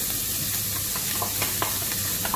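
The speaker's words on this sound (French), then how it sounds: "on remet un peu de beurre dans le poêle. Et là, on va venir faire suer nos échalotes" Shallots sweating in butter in a frying pan, a steady close sizzle with light stirring scrapes and small crackles throughout, no voices.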